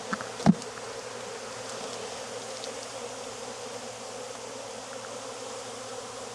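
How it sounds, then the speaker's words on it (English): Honey bees buzz steadily inside an open hive in a Jacksonville, Florida apiary, a soft continuous drone with a brief knock near the start, no voices. "There's enough bees in here to draw out some good wax in this flow"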